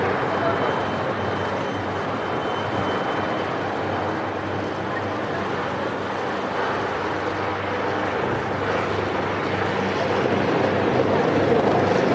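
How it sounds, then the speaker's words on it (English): A loud, steady helicopter rotor roar drones overhead throughout at the Austrian Grand Prix, without easing, masking any other sounds. "always here with the helicopters"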